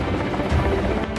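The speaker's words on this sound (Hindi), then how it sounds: "और अब देखिए मौत बरसाने वाले इस हेलीकॉप्टर को।" A Russian Ka-52 attack helicopter in flight gives a steady, loud rotor and engine roar that runs unbroken and alone, with no voices over it.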